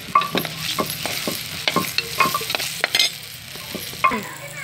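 Onion, peanuts, tomato and chilies sizzling in hot oil in a pan, with a steady frying hiss broken by repeated clacks and scrapes of a stirring spoon.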